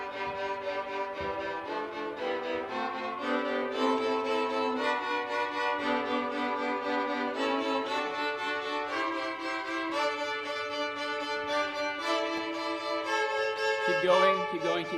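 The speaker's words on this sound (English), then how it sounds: "the three violins that are doing those eighth notes" Chamber orchestra violins play steady repeated eighth notes in a chugging pattern, with layered sustained string harmony above, continuous and moderately loud for the full length, no talking.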